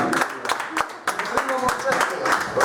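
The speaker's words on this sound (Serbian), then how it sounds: "Aplauz za Jovanu" Audience clapping for Jovana at a joke-telling championship, a short burst of uneven, fairly close handclaps from a small crowd, with voices talking over it.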